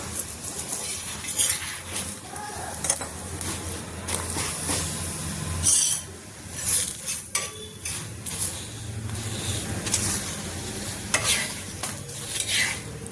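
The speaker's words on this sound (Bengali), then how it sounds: "আমি এখানে সরষের তেল দিয়ে ভাজছি" Paratha frying in mustard oil in a pan, a steady close sizzle running throughout with occasional clinks of utensils against the pan and no talking.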